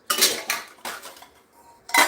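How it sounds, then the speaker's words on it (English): Stainless steel camping mess kit pieces, pots, a cup and bowls, clank and rattle in several short bursts close by, with metallic ringing between quiet gaps. "mess kit is just the MSR stainless steel kit. Of course, the pan, got cup, and the 2 pots and bowls."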